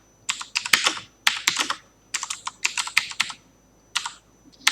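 Typing an essay on a computer keyboard, close rapid bursts of key clicks separated by short pauses, with no talking.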